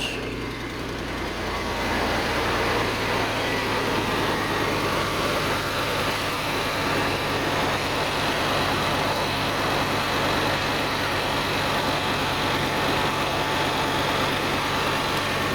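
A 1997 Ford F150 pickup engine idles steadily after starting, a continuous low rumble that stays even and close for the whole stretch with no talking.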